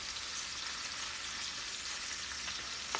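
Shrimp sizzling in olive oil and garlic in a pan, a steady, even frying hiss that holds constant throughout with faint crackles and one small pop near the end.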